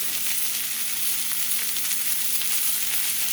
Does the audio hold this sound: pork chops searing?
yes